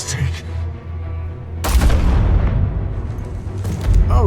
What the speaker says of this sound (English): Oh shit, shot him in the face.